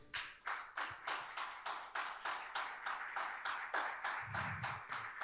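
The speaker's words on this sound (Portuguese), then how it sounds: "Pode dar uma salva de palmas ao Senhor?" A congregation at a church service claps steadily in rhythmic unison, the beats evenly spaced and fairly loud, continuing for several seconds without any voices.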